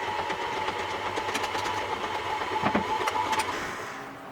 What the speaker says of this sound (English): I'm going to put the mixer on. I've got my dough hook on here, and I just let it mix together.